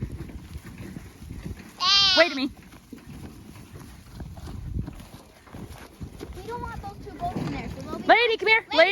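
Goats and sheep bleat in short wavering calls during livestock loading, one near the start and a cluster near the end, with people talking and shushing in between.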